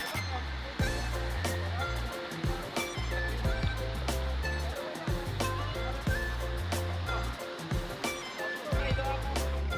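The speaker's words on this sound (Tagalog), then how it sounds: "River oh." River water flows past a spot where people are bathing, a steady broadband rush with scattered knocks and clicks over a low rumbling undertone.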